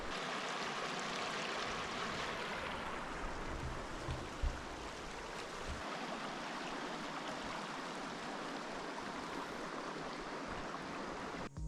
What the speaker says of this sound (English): amazing river.